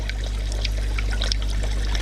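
Water trickles steadily from an air-driven lift into a 3D-printed fish fry breeding rack on an aquarium, a continuous close splashing dribble over a low steady hum, with no talk.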